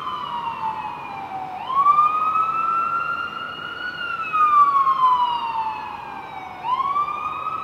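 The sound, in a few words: siren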